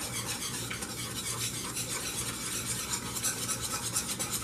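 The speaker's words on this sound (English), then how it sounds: "You can use a whisk. Mix it all in. This is your batter." Beer batter for fish and chips is whisked steadily in a bowl, making a continuous close scraping and swishing with a quick regular rhythm and no talking.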